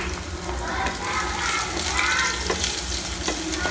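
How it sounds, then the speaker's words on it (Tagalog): Garlic sautéing in a hot wok, a continuous close sizzle and hiss with occasional stirring scrapes, faint voices in the background. "Mainit na yung kawali niya. Gigisa niya na yung bawang"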